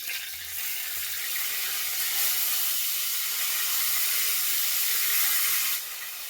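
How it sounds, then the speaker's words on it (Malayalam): Tamarind water hits hot coconut oil in a pan and gives a loud, continuous hissing sizzle that runs steadily and drops off near the end. "ഞാൻ അതിലേക്ക് ഇത്തിരി പുളിവെള്ളമാണ് ഒഴിക്കണേ"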